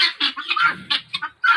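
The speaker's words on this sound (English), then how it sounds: "There's the pigeons." Farm pigeons, a mother, father and young among the flock at a small family critter farm during chore time, give a run of short, close, bright bird calls in quick bursts, with brief pauses between them.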